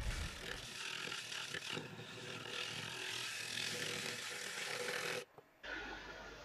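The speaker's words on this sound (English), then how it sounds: "removing the last tool marks with the negative rake scraper" A negative rake scraper rasps steadily across a turned wooden bowl, a continuous dry scraping hiss with small strokes, cutting out briefly near the end before resuming.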